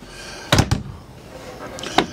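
Trifold storage doors in the master suite of a 2016 Lifestyle Luxury 38RS fifth wheel RV clack and knock, two sharp bangs early, then a softer fold and another knock near the end.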